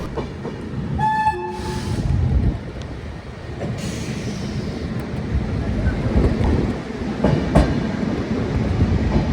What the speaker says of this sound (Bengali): আর একটু পরে আমাদের ট্রেনটা ঢুকবে হচ্ছে বর্ধমান জংশন